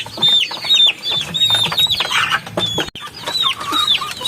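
Upgraded native chickens cluck and squawk in a busy, overlapping chorus, with some wing flapping, close and fairly loud with no talk.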